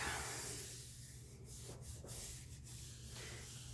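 A flat hand rubbing firmly across the back of printmaking paper laid on an inked plate, giving a soft continuous papery rubbing with a few short pauses, close and quiet.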